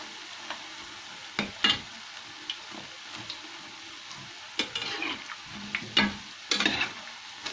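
Zalabia dough frying in hot oil with soft sizzling, punctuated by several sharper bursts of crackling and stirring clatter, fairly close and fairly quiet, with no talk.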